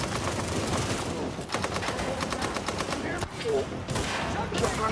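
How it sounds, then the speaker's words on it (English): Rapid, loud gunfire bursts from a video game shotgun in close succession, with dense blasts cutting through a noisy battle scene and brief gaps between volleys, while voices talk over it. "Shotgun."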